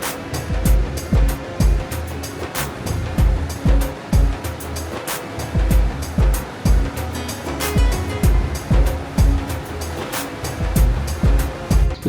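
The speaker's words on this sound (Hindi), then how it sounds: "और पानी बहुत स्पीड में नीचे से जा रहा है" Fast river water rushes beneath a bridge among the mountains of Gilgit, a loud, continuous roar that swells and recedes in repeated surges. No speech is heard.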